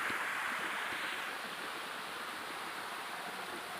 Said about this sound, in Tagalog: Merong falls na maliit yan.